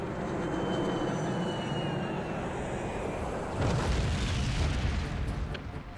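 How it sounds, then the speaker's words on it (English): Fireworks explode in the video game Lumoria: a deep, rumbling boom bursts out midway through a dense, noisy battle soundscape, loud and heavy as it rolls on for a couple of seconds. "Now that, ladies and gentlemen, is what you call fireworks."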